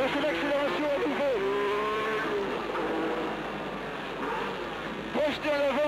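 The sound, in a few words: Alpine Renault race car accelerating at Le Mans 1978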